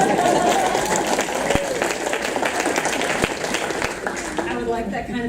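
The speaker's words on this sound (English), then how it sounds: "I would like that kind of applause every time I say that." Audience applause at an award event, a dense, sustained wash of clapping from a crowd, with speech mixed in and rising toward the end.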